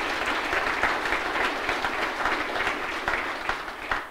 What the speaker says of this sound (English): So let's give those folks a round of applause.